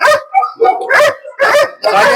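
Several dogs bark and yip at a dog shelter in loud, close, irregular bursts, with a few whimpers mixed in and no clear voices.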